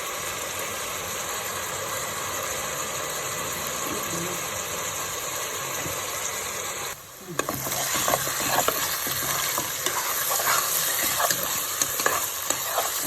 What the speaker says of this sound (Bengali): এখন নাড়াচাড়া দিয়ে দিচ্ছে